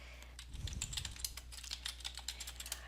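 Quick typing on a computer keyboard, a close, rapid run of light clicking keystrokes in an irregular rhythm, with no talk.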